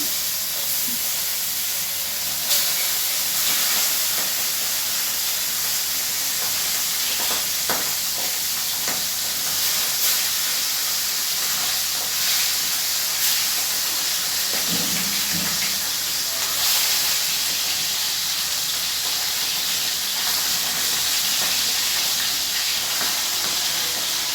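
Puthi fish fry in a pan with a loud, continuous hiss and sizzle that holds steady throughout, with occasional faint clinks and stirring sounds.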